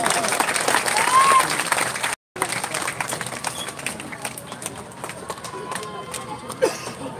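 A conference audience applauds at a special awards presentation, giving sustained, moderately loud clapping from a crowd with faint murmuring and a brief dropout partway through.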